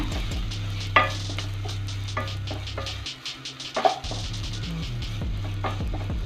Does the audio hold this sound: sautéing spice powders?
yes